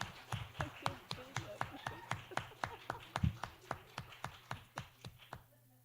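Seminar audience applauding a guest speaker in a lecture hall, a steady run of sharp, evenly spaced hand claps that fades out at the end.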